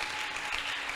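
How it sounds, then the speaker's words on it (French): Church congregation applauding for the Lord at a youth fasting service, a dense, steady wash of many hands clapping, loud and continuous for the brief moment. "Acclame pour le Seigneur."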